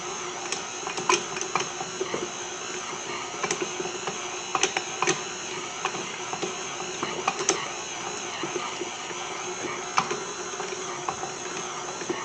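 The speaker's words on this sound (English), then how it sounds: "I just wanted to use the KitchenAid to speed it up." A KitchenAid stand mixer kneads ramen noodle dough, giving a steady mechanical whir with a rhythmic clicking and knocking from the dough hook turning in the bowl, running continuously at moderate level with no talking.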